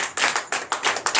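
Rhythmic clapping in steady bursts, several hands together, close and fairly loud, with no voices over it.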